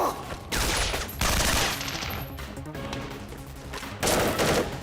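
Bursts of gunfire from a firefight, several loud sustained volleys that start and stop, close and dense, with no talk over them.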